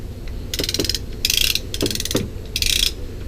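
Ratchet tensioner cranked in four short bursts on a boat shrink wrap perimeter strap, each a close, loud rapid clicking of the pawl separated by brief pauses.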